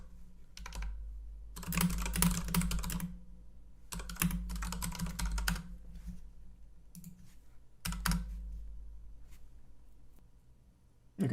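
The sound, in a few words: typing on a computer keyboard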